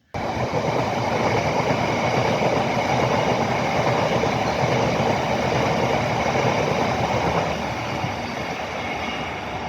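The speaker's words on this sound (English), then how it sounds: "I think you might be able to just hear a train." Train passing on a railway line beside semi-natural woodland near Ruislip, a loud, steady rumbling roar with rhythmic wheel clatter that starts abruptly and fades slightly toward the end.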